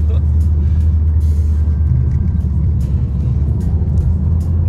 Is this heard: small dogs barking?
no